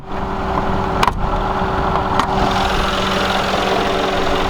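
The 5.5-liter V8 of a 2016 Mercedes-Benz G-Class AMG G63 idles with a constant low hum and rumble, broken by two brief sharp clicks.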